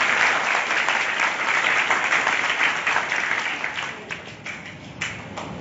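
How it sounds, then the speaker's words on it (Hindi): Enthusiastic applause from a crowd, dense and steady at first, then thinning out into scattered claps toward the end. "उनके लिए जोरदार तालियां।"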